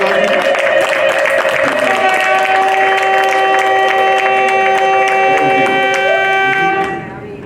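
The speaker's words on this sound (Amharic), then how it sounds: "ለምን እልልታ አታስገቡ?" A church congregation erupts in loud, sustained ululation with cheering and clapping, high trilling voices layered together, continuing steadily before dropping off sharply near the end.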